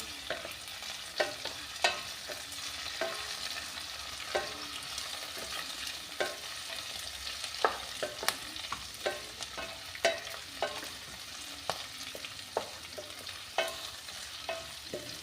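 Curry leaves fry in a pan for a chili chutney, a continuous bright sizzle and crackle with regular scraping stirs repeating every second or so throughout, close and steady, with no speech.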